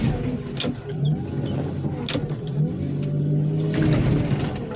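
A car engine strains and revs as the vehicle drives up onto the drum of a wheel crusher, a steady mid-pitched motor drone with clunks and brief surges, no voices.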